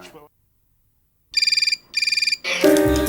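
A mobile phone rings for an incoming call: two clear bursts of a rapid, bright, pulsing electronic ringtone, then a voice speaking close by as the call begins.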